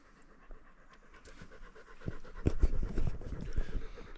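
A dog pants steadily in the woods, close and rhythmic, the quick breaths growing louder through the second half with faint outdoor background.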